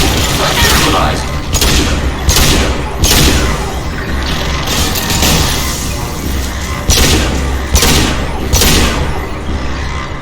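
Sustained combat gunfire in Mass Effect 2 Legendary Edition, with loud repeated bursts and sharp impacts in an irregular rhythm over a constant low rumble, close and dense throughout.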